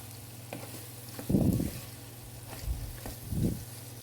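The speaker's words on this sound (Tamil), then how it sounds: "நம்ம வேக வச்சுருந்த மட்டனை சேர்த்து நல்லா கலந்து விட்டுக்கலாம்" Cooked mutton being stirred into a sizzling masala paste for donne biryani, with a low, quiet frying hiss under a few thick, wet scraping stirs.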